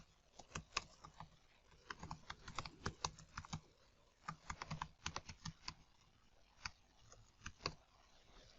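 Fingers type on a computer keyboard in quick irregular bursts of crisp key clicks, fairly close but quiet, with short pauses between runs and no talking.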